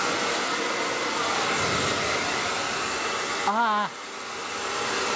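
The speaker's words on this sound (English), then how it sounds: "This is the Babyliss Pro at full bore." A Babyliss Pro hair dryer blasts at full power close to the microphone, a loud, steady roaring whoosh with a brief vocal exclamation partway through.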